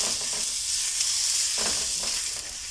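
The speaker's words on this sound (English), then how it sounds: "And then now I'll just fry them for a minute" Hot dogs frying in a tablespoon of oil in a pan, a steady loud sizzle with occasional soft stirring scrapes.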